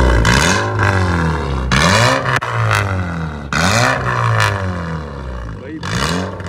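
A Honda Civic's 1800 cc engine revs hard four times through an aftermarket exhaust, each loud rising roar falling back before the next, close by.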